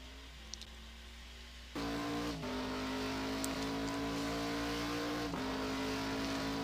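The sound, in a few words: Nissan GT-R R35 race car driving on track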